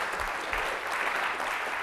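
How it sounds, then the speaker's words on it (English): A conference audience at a business event applauds the commonsku team, with steady, even clapping from a full room that fills the moment without a break. "How about a big round of applause for the commonsku team?"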